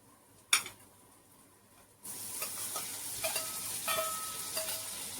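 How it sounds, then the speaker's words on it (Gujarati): Tomato dropped into a hot frying pan, a sharp hit followed by a steady close sizzle, with light scraping stirs ticking through it. "આપણે નાખવાનું છે ટમેટું"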